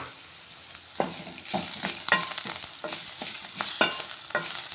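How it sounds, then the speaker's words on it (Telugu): Bitter gourd slices fry in a pan as salt and chili powder are stirred in, with crisp, irregular scraping and tossing strokes over a light crackling sizzle, close and fairly quiet. "ఇదంతా కలిపిస్తున్నాం"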